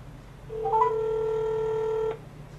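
A single steady electronic tone from a phone call being placed sounds clearly for about a second and a half, then stops abruptly over a quiet low hum.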